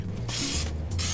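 Short bursts of nonstick spray hiss onto the open grid of a Waring waffle cone maker, several quick close sprays in a row with no talking.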